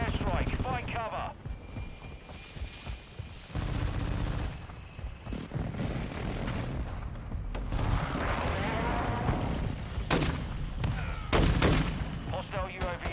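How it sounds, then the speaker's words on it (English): A precision airstrike in Call of Duty Modern Warfare II brings loud gunfire and explosive blasts in sharp bursts, heaviest near the end, while voices talk over the din. "Enemy precision airstrike."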